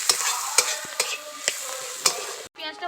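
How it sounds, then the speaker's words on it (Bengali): Chopped onions with slit green chillies frying lightly in a pan, a close, steady sizzle broken by several sharp stirring scrapes and knocks in an uneven rhythm, then a brief pause near the end. "পেঁয়াজটাকে হালকা করে একটু ভাজা ভাজা করে নেবো।"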